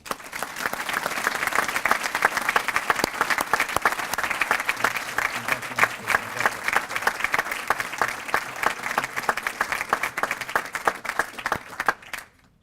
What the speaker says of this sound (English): Please give a hearty round of applause for our 2014 Business Person of the Year, Scott Dutton.